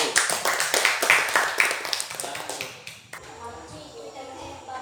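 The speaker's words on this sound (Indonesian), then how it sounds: "kita kasih tepuk tangan dulu untuk kelompok 1" Students in a classroom clapping for a presenting group, a short burst of hand claps that fades out after a few seconds, followed by quieter room sounds.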